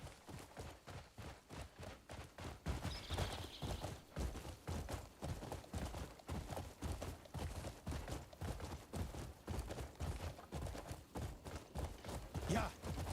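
Horse hooves clip-clop at a steady trotting rhythm in the video game Crimson Desert, close and fairly loud, repeating throughout with occasional other game sounds.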